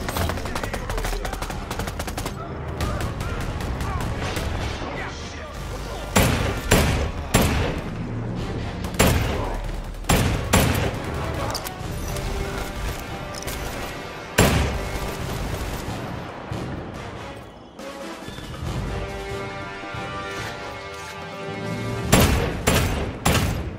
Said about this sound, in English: Let's keep shooting.